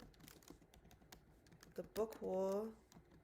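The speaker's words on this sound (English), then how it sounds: "I will type it out" Quick irregular clicks of typing on a computer keyboard, faint and close, while a person briefly speaks over the keystrokes.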